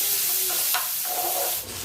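Chopped tomatoes frying in a pan for butter chicken, a close steady sizzle with light stirring scrapes over about two seconds.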